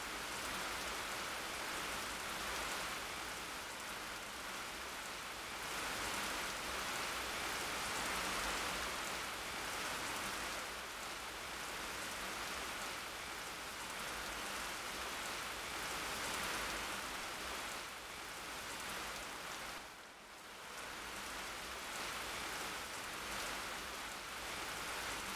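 Steady rain pours in the blocky Minecraft world, a dense, even hiss of falling drops that runs unbroken and fairly loud with no voices.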